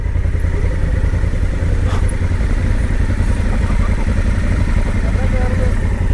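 Honda Africa Twin motorcycle ridden off-road on a mountain track, its engine a loud, steady low rumble close by with light clatter and thumps throughout.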